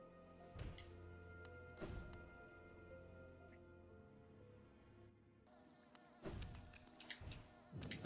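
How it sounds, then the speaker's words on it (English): Baby bees in the video game Hollow Knight: a quiet, continuous insect drone hums throughout, with a few soft thumps breaking through. Near the end the buzzing grows denser and brighter. No voices. "Oh look, Catherine, I'm not killing the baby bees."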